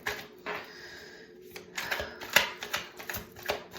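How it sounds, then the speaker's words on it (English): Tarot cards are shuffled close up in quick, crisp riffles and taps, several papery bursts and clicks following one another over a few seconds with no voices. "as I'm shuffling the cards"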